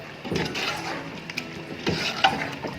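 Chicken being fried and stirred in a pot for Sindhi biryani, with scraping and clinking of a spoon against the metal over a low sizzle, a few sharper knocks near the end.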